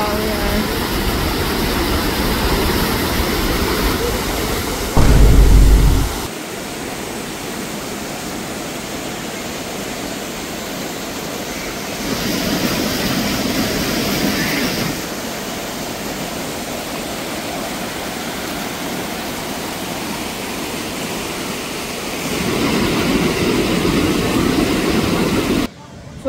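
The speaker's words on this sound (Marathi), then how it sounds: "माझ्या मागे येतो वॉटरफॉल" The Umbrella Waterfall roars as a loud, steady broadband wash close by. Its level shifts in a few abrupt steps, and voices talk over it at times.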